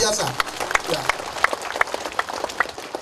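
Crowd applause at a district anniversary celebration in Ilaga, Puncak, Papua, a steady wash of clapping with sharp individual claps standing out, and voices mixed in beneath.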